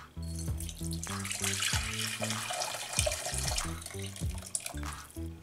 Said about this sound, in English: I'll put this broth in the bowl and we'll use it as part of the recipe